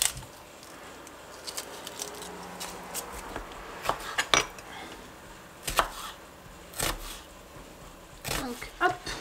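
A knife cuts through seaweed for a salad on a board in a home kitchen, giving sharp, irregular chops and taps that come in scattered clusters with quiet gaps between them.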